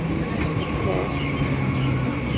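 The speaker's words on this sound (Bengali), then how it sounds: "ট্রেনটা হচ্ছে শিয়ালদা যাবে আমরা ট্রেনে ফিরে পড়লাম" A train bound for Sealdah rumbles steadily from inside a carriage, a continuous low roar with faint rattling and no breaks.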